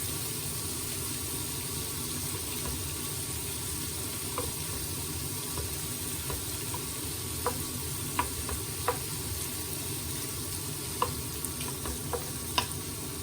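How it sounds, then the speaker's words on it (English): Bacon pieces cooking in a hot frying pan for a carbonara dinner, giving a steady, soft sizzle and crackle throughout, with occasional faint sharper pops and ticks near the end, and no talking. "So you can see the bacon starting to cook."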